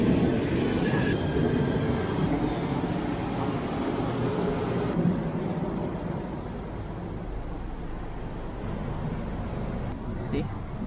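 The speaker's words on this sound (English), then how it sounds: "Finally, KTM is coming." A KTM commuter train arrives at a station in Kuala Lumpur, Malaysia, with a steady, moderately loud rail rumble and rolling noise that eases slightly toward the end.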